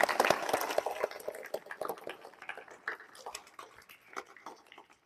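Audience clapping in thanks at a yoga meditation camp, a scattered and fairly faint round of applause with uneven claps that thin out over a few seconds.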